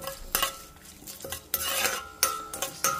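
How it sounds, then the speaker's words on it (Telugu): Tempering spices sizzle in oil in a pan while a metal spoon stirs, with a steady crackle under sharp intermittent clanks of the utensil against the pan. "చిట్చిట అంటుంది కదా, పోపు వేగింది."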